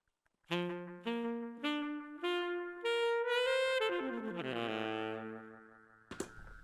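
Saxophone run through an MXR Carbon Copy analog delay pedal: a rising sequence of short notes, each one repeating and building into a dense wash of long, fading echoes that trails off before a brief final burst.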